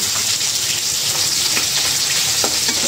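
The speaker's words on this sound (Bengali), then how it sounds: "ইলিশ মাছ ভাজা হয়ে গেছে, উঠাইনি।" Hilsa fish frying in a pan: a dense, constant loud sizzle and crackle with faint scraping, continuing without pause and with no voices.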